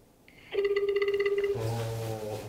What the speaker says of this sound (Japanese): ちょっと待って。携帯に電話しよう。